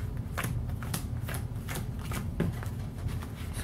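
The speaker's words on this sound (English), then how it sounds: "So I'm just gonna shuffle this all up." Someone shuffles a deck of Pokemon trading cards up close, with quick rhythmic riffling bursts repeating at a steady pace, crisp and fairly quiet, with no talking.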